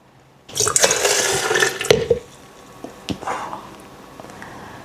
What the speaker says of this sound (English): And then use this water to rinse it.